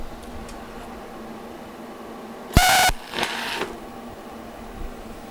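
A TIG torch set to about 100 amps DC slices the end off a throttle cable, giving a sharp hissing, crackling arc burst, then a second shorter burst against a quiet shop background.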